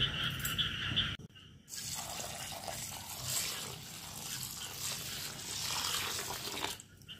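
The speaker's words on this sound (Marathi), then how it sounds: "3 ते 4 पाण्यात स्वच्छ धुवून घेऊया।" Lentils with fenugreek seeds are washed in water for dosa batter, giving soft sloshing and swirling water sounds. The swishing stays faint and continuous after a brief pause near the start.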